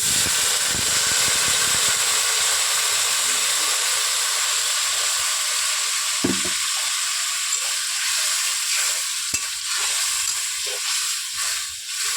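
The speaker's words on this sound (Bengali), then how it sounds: "এবার জল দিয়ে দেব, পরিমাণ মতো জল দিয়ে দিচ্ছি।" Spiced potatoes hiss and sizzle steadily in a pan after water is poured in, a loud continuous frying hiss with a few brief clatters of stirring, no talk.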